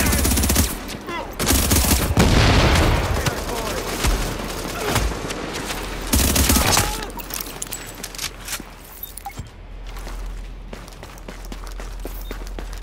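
Loud bursts of automatic gunfire and single shots crackle through a firefight on a Manhattan street near 43rd and 2nd in The Division, with heavy volleys in the first seven seconds, then sparser, lighter shots and movement sounds.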